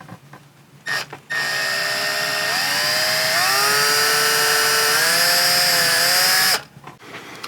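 A power drill boring a small hole into the hinge pin of a Mercedes-Benz C250 interior door handle. A single sustained, loud whine rises in pitch twice under load, then cuts off abruptly.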